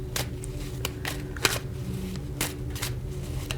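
A deck of tarot cards being shuffled by hand close up, with repeated soft riffles and crisp slaps of cards in an irregular rhythm and no talking over them.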